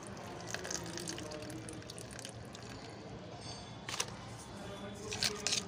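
Water from chopped potatoes soaked for a day is poured into turmeric, a faint, steady close trickle with a couple of soft knocks near the end.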